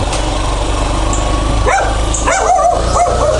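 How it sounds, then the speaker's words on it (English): Corgi barking and yipping a few times from nearby, heard over a steady motorcycle engine on a street in the Philippines. "And there's that corgi."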